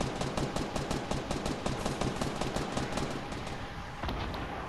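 Rapid, evenly spaced gunshots in Fortnite, a fast rhythmic burst of sharp cracks that runs for several seconds before thinning out near the end.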